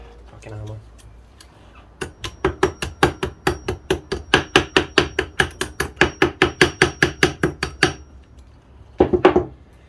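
Rapid, evenly spaced metallic clanks of a hammer striking metal during a car gearbox repair, around twenty sharp blows in a row, then a short pause and a few more hits.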